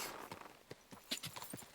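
In Kingdom Come: Deliverance II, a horse's hooves clip-clop on hard ground in an uneven walking rhythm, a dozen or so sharp knocks, fairly faint and close.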